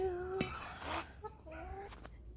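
Chickens in a garden give short tonal clucks and calls at close range, mixed with a few sharp clinks, in a quiet outdoor setting.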